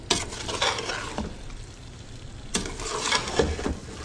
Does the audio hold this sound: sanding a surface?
no